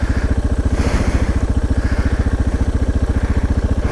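Thumping single-cylinder engine of a KLR 650 or DR650 dual-sport motorcycle hung up off-road, close and loud with a rapid, even pulsing idle and a slight rise in revs near the start.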